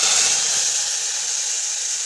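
Boiled potatoes frying and being stirred in mustard oil with a dried chili and cumin, giving a steady, loud, bright sizzling hiss with a faint low bump from stirring.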